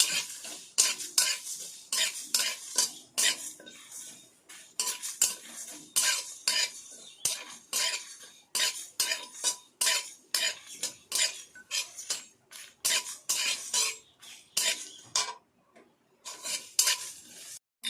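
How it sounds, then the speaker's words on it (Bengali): A spoon scrapes and clatters rhythmically against a pan as coriander, cumin, fennel, fenugreek and carom seeds are stirred and toasted dry, close up, with a faint sizzle and no talking. "এবার আমি এর মধ্যে ধনে জিরে মৌরি মেথি জোয়ান সব মশলাগুলো একসঙ্গে ভেজে নেব"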